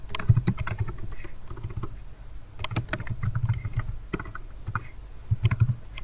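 Python code is typed on a computer keyboard, producing quick, close, irregular bursts of key clicks with short pauses between runs of keystrokes.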